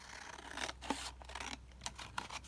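Scissors snipping through collage masterboard paper, a few short crisp cuts with quiet rustling between them, close by and fairly soft.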